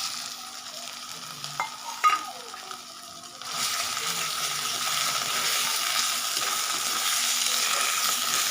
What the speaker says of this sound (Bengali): এটাকে আমি মিডিয়াম আঁচে এটাকে খুব ভালোভাবে ভেজে নিতে হবে 2 মিনিটের জন্য